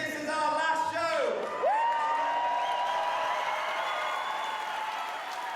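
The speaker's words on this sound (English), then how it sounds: "can I get one more big round of applause, please?" At the close of a circus show, an audience claps steadily in a dense, continuous wash, with loud whoops and cheers rising over it, one high sliding shout standing out early on.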